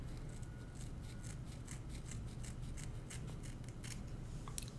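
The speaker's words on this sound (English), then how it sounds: "I'm going to be cutting with my scissors just right underneath that." Small scissors snip through synthetic wig bangs in a quiet room, a run of crisp, close metallic cuts in a loose rhythm, with no talking over them.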